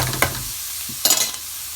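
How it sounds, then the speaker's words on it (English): Onions fry in a pan for pav bhaji under a constant soft sizzle, with two bursts of scraping as a utensil stirs them up close. "Here our onions are also cooking."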